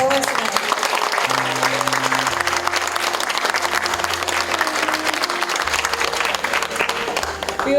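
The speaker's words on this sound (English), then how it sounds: "Please help me give a round of applause to all of our performers tonight." Audience applause for performers at a Losar and Tsagan Sar New Year celebration in New York: thick, continuous clapping from a large crowd, loud and steady throughout, with faint sustained tones sounding beneath it.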